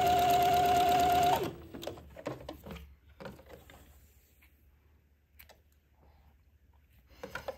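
A sewing machine zigzag-stitching fabric for a funeral pall runs loud and steady for just over a second, then stops. Faint handling clicks and rustles follow, close by and quiet, with no talking.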